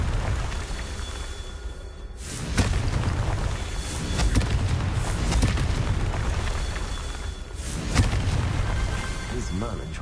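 A Confringo fire spell bursts in a Harry Potter video game, a loud booming blast followed by crackling rumble, then a second explosive burst near the end amid ongoing battle noise.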